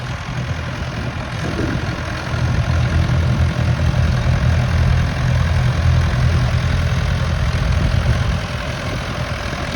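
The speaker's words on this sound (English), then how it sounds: "let's listen to the ploughing. Watch what's going on." A Massey Ferguson tractor engine drones low and steady while ploughing a field at a ploughing match, with strong wind rumbling over it throughout.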